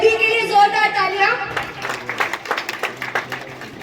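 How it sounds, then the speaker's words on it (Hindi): Applause from an audience at a school event for a shooting range inauguration, starting under a speaking voice and becoming a dense run of clapping as the talk fades. "तो एक बार सभी के लिए जोरदार तालियां"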